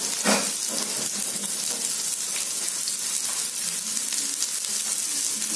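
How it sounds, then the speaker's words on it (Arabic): Sliced onion frying in oil for a quick potato, onion and egg frittata, a steady close crackling sizzle with dense hiss that carries on without a break throughout. "كنخليو البصله تشحر"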